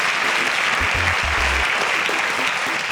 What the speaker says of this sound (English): Can we give you an eforiru round of applause?